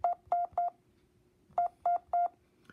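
Morse code letter S: two sets of three short, evenly spaced beeps at one steady pitch, with a pause between the sets; clear and alone.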